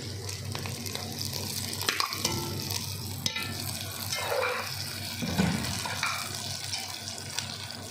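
Capsicum and cabbage stir-frying in a hot pan for egg fried rice, a continuous close sizzle with scraping stirs and clatters throughout, no talk.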